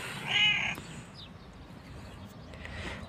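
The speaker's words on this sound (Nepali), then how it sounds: "यहाँको बिरालो सबै इङ्ग्लिस बुझ्छ होला" A street cat in Bugibba, Malta gives one short, clear meow near the start, then outdoor background noise follows. Faint rustles and distant sounds come after it.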